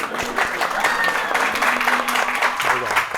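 A talk show audience breaks into loud, continuous applause, many hands clapping densely and close with some voices and cheering mixed in.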